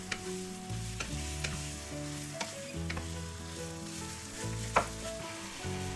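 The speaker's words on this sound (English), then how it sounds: "Then add in the pork belly and continue frying." Pork belly sizzling and crackling steadily in a hot pan, with a few light clinks of a utensil stirring.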